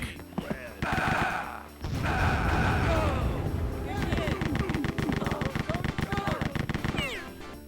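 Rapid gunfire bursts from the Rise of the Triad shooter game, loud machine-gun rattles alternating with short gaps and mechanical game effects, with a person's voice mixed in.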